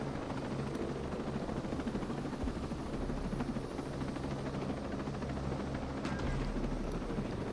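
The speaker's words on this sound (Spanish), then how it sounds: "¿Se fastidiará el helicóptero?" A helicopter in the video game Ghost Recon Breakpoint: a steady, dense rotor and engine drone that holds loud and unbroken throughout, with no talking over it.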